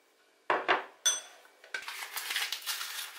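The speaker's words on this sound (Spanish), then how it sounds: "El primer paso, mezclamos la harina con el cacao" Flour and cocoa mixed in a bowl for red velvet cake batter, heard as close clinks of a utensil against the bowl followed by a continuous brisk stirring and scraping, with no talk.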